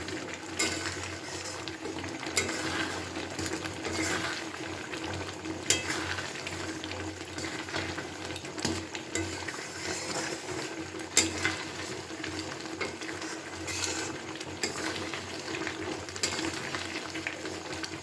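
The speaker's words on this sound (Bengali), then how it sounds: "এবার আমি এর মধ্যে মশলাটাকে ছড়িয়ে দিয়ে দিচ্ছি এটা দিয়ে আবার বেশ কিছুক্ষণ নাড়াচাড়া করে নিচ্ছি" Olive pickle with spices being stirred in a pan, a soft, continuous low sizzle with intermittent scraping and clinks from the stirring, fairly quiet and without speech.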